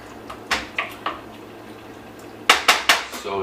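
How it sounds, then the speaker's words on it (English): Rice in a pot of Puerto Rican asopao de pollo is stirred with a utensil, giving sharp metallic clinks and knocks against the pot, a few spaced hits and then a quicker cluster, close and clear. "I'm gonna give a good stir again to the rice"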